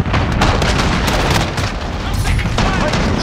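A cruise missile strike in Call of Duty: Modern Warfare blasts through a Domination match in the Killhouse, a loud rumbling explosion mixed with steady gunfire and shouting soldiers throughout.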